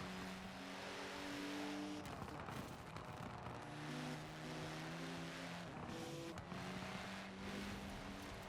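A 1980 Renault 5 Turbo race car tuned for cornering in a racing video game, its engine droning steadily with shifting harmonic tones as it accelerates and changes gear, continuous and fairly loud with no talk.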